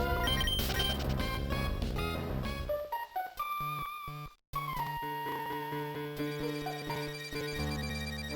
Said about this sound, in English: There's my phone.